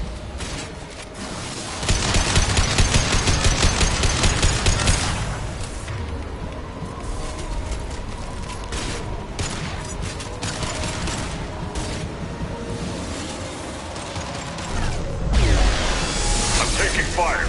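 Combat gunfire and mechanical clatter from Mass Effect 2, with a dense burst near the start and another late on, over a steady game din, with voices talking through it.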